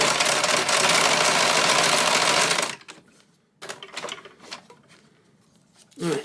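A sewing machine runs a big zigzag stitch for a couple of seconds, its close, steady mechanical whir stopping abruptly; afterward come quiet handling sounds, soft talk and a brief renewed burst.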